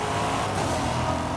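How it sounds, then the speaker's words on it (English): Car engines roaring in the racing game Forza Horizon, a loud, dense and continuous engine drone with revving, filling the whole stretch without any talk over it. "You can hear the engines roar"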